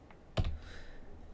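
Someone types on a computer keyboard, producing a single firm, close keystroke with a fainter tap just before it and a quiet hum afterward.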